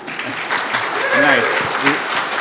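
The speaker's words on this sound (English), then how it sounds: "Loudest applause I've ever gotten." Audience applause at a conference talk during a Fedora community event in Cork, Ireland, a steady dense clapping that fills the whole moment, with a voice speaking over it.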